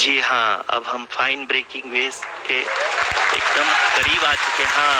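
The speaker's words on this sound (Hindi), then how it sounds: "Lot of applause indicates that till now the performance has been nominal." Applause breaks out in mission control during the Chandrayaan-3 lunar landing, a broad rush of many people clapping that rises under someone commentator's Hindi narration and then carries on strongly once his voice drops away.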